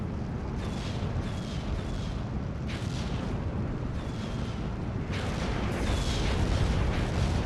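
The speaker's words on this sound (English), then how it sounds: "More Katusha fire" Katyusha rocket artillery in the Steel Division 2 war game, a dense roar of launches and distant rumbling blasts that rolls on continuously, with sharp streaking whooshes cutting through every second or two.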